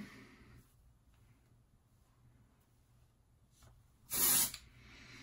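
One short, close hiss of hairspray puffs from a can onto lifted hair, standing out in an otherwise quiet room.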